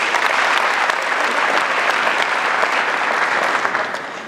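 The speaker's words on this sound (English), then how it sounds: "I believe that they deserve an applause." An audience at an ICT facility presentation gives sustained, loud applause, a dense continuous roar of many hands clapping that holds steady and begins to fade near the end.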